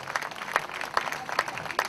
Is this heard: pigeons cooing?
no